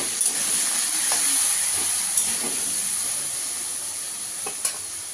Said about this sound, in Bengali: আলুটাকে একটু ভালো করে ভেজে নেবো।